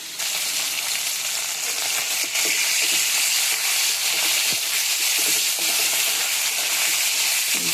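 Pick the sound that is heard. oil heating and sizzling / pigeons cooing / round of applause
oil heating and sizzling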